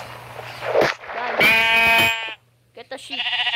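Sheep bleating in a Minecraft-style video game, a loud, wavering bleat heard close, followed after a short gap by a quicker, choppier bleat, with speech-like sounds just before.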